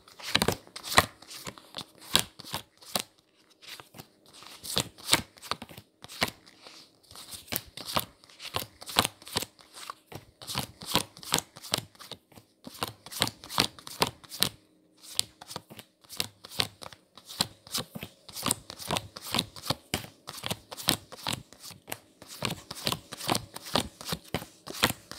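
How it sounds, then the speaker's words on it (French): Playing cards are shuffled over and over, close and crisp, in quick riffling bursts split by short pauses. "je reprends toutes les cartes et je vais sortir 12 cartes"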